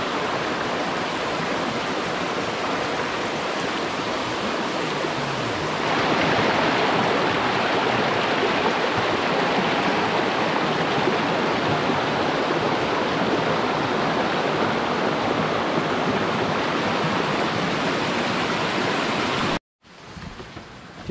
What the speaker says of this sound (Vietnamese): nước suối hơi đục các bác nhé